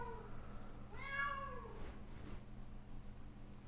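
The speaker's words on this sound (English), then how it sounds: "I'm so sorry if this meowing getting so annoying" A cat lets out a drawn-out, rising and falling meow, with a shorter call just after, over a steady low background hum.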